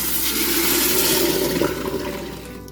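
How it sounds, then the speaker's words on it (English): Hot homemade chicken broth pours into a bubbling roux in a cooking pot with a loud, continuous rushing splash that slowly tapers off near the end, with no voices. "let's pour this liquid back in the pot"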